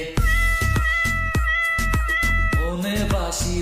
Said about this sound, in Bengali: দুষ্টু বিড়াল ডাকে রে